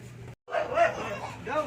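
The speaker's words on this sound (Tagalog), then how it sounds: "May, may, ano, may aso." A dog gives a few short, high yipping barks with a brief silent gap after the first, heard fairly close against a quiet background.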